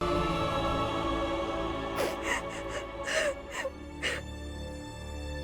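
A woman cries in a drama scene, a few short, broken sobs and gasps clustered in the middle, faint against a steady tonal background.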